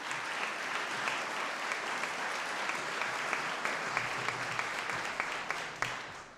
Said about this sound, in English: we can go ahead and give them a round of applause